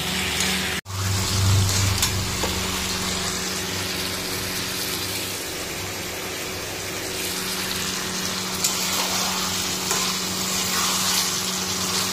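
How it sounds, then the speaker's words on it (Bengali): Mutton for a red-gravy curry with potatoes sautéing in a pan, giving a steady, close frying hiss with a low hum throughout, broken by a brief dip near the start. "এই দেখো মাংসটা এখন ভালো করে কষি নিচ্ছি"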